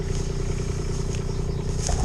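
A mini excavator engine runs steadily while it digs a drainage trench for drain tile, a continuous low diesel drone with faint clatter and a brief louder knock at the end.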